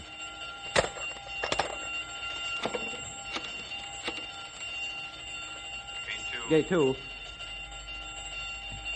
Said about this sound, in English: The alarm means that whatever's escaped is now out of the building and onto the grounds.